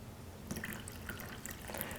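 Kangen 9.5 water is poured, a faint trickle with bright scattered drips and splashes, quiet and close, no talking.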